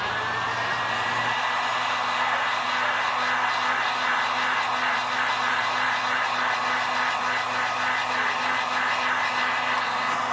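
A heat gun or hair dryer blows steadily on a Samsung J320 phone to loosen its broken LCD, giving a continuous close whooshing hum with a fixed motor whine and no breaks.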